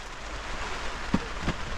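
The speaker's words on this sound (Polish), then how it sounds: "teraz yy, zaczął padać deszcz" Rain patters steadily on a camping tent in Asturias, a soft, even hiss with a couple of louder drops landing close by.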